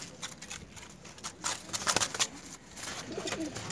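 Loft pigeons of high flyer breeds coo softly amid a dense rustle of feathers and shuffling, with a brief louder burst of flapping partway through and no speech.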